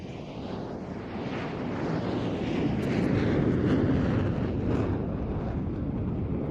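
An RAF display aircraft from 120 Squadron, based at Kinloss, flies at an air show, giving a steady, broad engine roar that slowly swells as it passes, with no talk over it.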